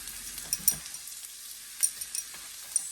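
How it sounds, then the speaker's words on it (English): Onions sizzle in coconut oil beside a pork loin being seared, a faint, thin hiss broken by a few light clicks and taps of a utensil. "But I can go ahead and add my onions"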